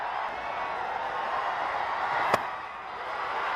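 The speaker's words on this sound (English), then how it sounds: "There's a vociferous crowd at the West End Park" A crowd at a cricket match at West End Park, India A against Pakistan A, makes a low, distant, continuous roar, broken once by a single sharp crack near the end.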